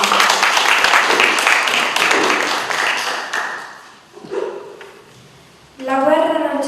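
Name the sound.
audience applause for a poetry reader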